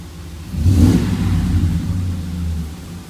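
A 1997–2004 tenth-generation Ford F150 with a 5.4 or 4.6 2-valve V8 and a warm hard-start fault revs once on a quick throttle tip-in. The engine note swells quickly, then eases back down toward idle, close and loud.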